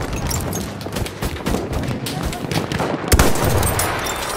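Rapid machine gun fire in a Battlefield game rattles loud and close in continuous bursts, with heavier thumps and impacts mixed into the barrage throughout.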